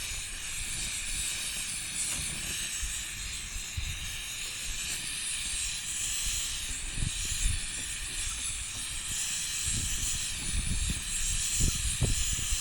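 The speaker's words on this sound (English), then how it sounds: "I want to saute these onions." Onions sautéing on a camping stove running very hot, a constant loud hiss of sizzling and burner roar throughout, with faint scattered crackles and stirring knocks underneath.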